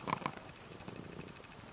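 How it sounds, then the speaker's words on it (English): A pet cat purring softly and close by in a quiet cottage sitting room, a low, faint, continuous rumble with a couple of small taps near the start. "very happily purring, aren't you, Sammy Bear?"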